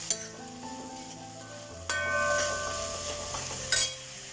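Tomatoes stirred in hot oil over raised heat sizzle steadily, with a few sharp scrapes and clinks from the stirring utensil against the pan, close up and with no talking.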